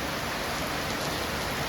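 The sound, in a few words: rain falling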